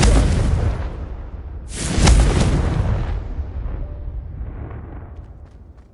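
Confringo fire spell explosions in Hogwarts Legacy: a loud booming blast at the start, a second heavy burst about two seconds later, each trailing into a long rumbling decay that fades out.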